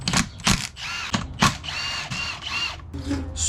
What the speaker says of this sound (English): We're gonna remove the D10 bolts and springs along with the balls.